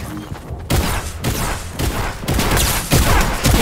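A purple shotgun fires in a video game, with several loud, heavy blasts spaced about half a second to a second apart, each one booming and then fading.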